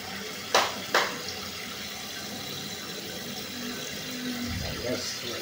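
Tap water runs steadily into a container for a salt brine: a continuous hiss with two sharp knocks near the start, and no voices.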